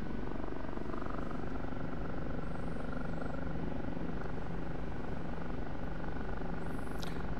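OH-58D Kiowa Warrior helicopter in the DCS flight simulator, a constant dense rotor and engine drone held steady throughout, with faint brief electronic tones above it.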